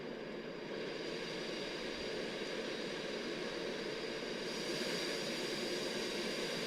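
A Concorde in X-Plane 11 on the London Heathrow to New York JFK route: a steady, dense roar of jet engines holding constant without a break, loud and broad, with no voices.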